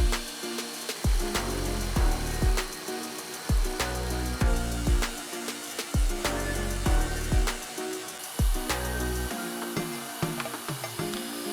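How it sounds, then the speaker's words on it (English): A belt grinder whirs steadily, its rough grinding noise surging in repeated bursts as a metal sword pommel is pressed against the belt and shaped. "I get it on the belt grinder and start refining the shape."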